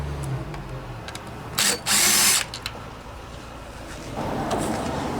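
A socket tool removes the carburetor bolts on a Briggs & Stratton 163cc lawnmower engine, with two short, loud powered whirring bursts close by between quieter handling noise.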